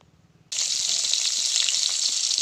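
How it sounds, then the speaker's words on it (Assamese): Rohu fish pieces go into hot oil in a pan for a bottle gourd curry. After half a second of near quiet, a loud, close, steady sizzle bursts in and continues, with no talk. "এয়া মাছখিনিতে ভাজি লৈ আছোঁ।"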